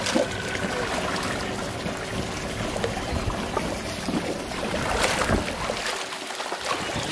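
Steady water splashing and sloshing from someone swimming a back pedal in a home swimming pool, a continuous close wash of churning water with soft trickles and no talk.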